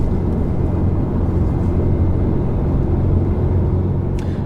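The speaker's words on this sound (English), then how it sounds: "Obviously that intake sound is something special." A BMW E92 M3 drives with a deep, steady engine and intake drone from inside the cabin, loud and continuous, with no talking.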